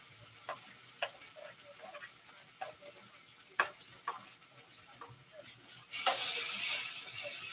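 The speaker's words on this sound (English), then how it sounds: "You got a nice sizzle going." Vegan French toast rolls dipped in an egg-substitute mix sizzle in a frying pan with soft crackles and scattered ticks, then a louder burst of sizzling near the end.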